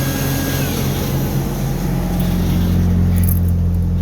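A 1991 Chevy S10 pickup engine with its homemade supercharger blower switched off runs at a loud, steady, droning rev, holding a constant low hum throughout with no talk.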